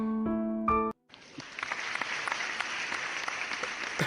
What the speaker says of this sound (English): the applause comes from Daniel Bennett